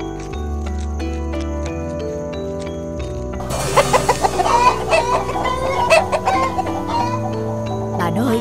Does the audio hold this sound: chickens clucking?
yes